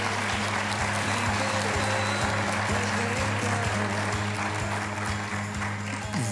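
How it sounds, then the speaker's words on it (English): An audience at a morning live show claps in sustained applause for a guest, a steady wash of clapping over a low humming music bed with a repeating beat. "Big round of applause, Jackie Taylor."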